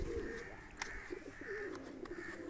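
Pigeons cooing at close range during a morning feeding with roti, soft repeated low coos under steady background hum, with a sharp brief tap partway through.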